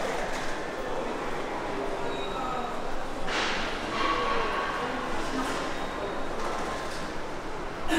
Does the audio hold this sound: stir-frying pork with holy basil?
no